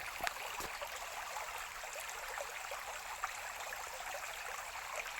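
River water flows steadily from India across the border into the Someshwari river, a soft continuous rushing wash with no voices over it.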